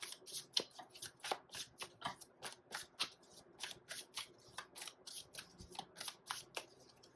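Tarot cards being shuffled by hand, a quick regular run of crisp papery riffles and flicks, close and fairly soft, continuing steadily with no speech.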